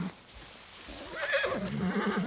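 A horse in the video game Far Cry 6 lets out a wavering whinny that rises over faint ambient game noise, growing louder and more drawn out toward the end.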